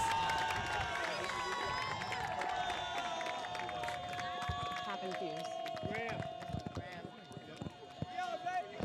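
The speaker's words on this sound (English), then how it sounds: "The crowd is very excited for the Sharks." Excited crowd at a boys' high school soccer match cheering a Sharks goal, a loud sustained roar of many voices with shouts and whistles rising near the end, with a commentator talking over it.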